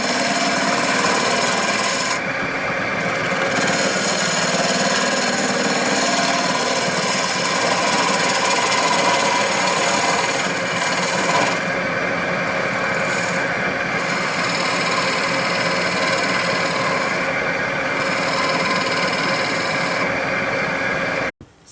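A wood lathe cutting a tenon sized for dovetail chuck jaws on a turning blank produces a loud, continuous scraping and rasping hiss that runs steadily without pause, with no talking.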